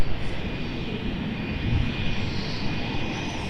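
A Jetstar passenger jet near Melbourne Airport, a steady broadband engine roar holding at a constant, fairly loud level with a thin high whine running through it and no voices.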